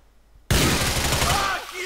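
Sudden sustained burst of gunfire in GTA IV, a dense rattling volley starting abruptly and continuing loud to the end.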